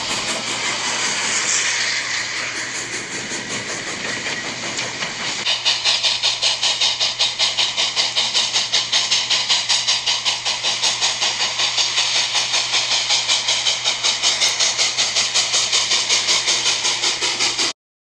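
A steam train hisses, then settles into a fast, steady rhythmic chuffing that runs continuously at close range, with no voices.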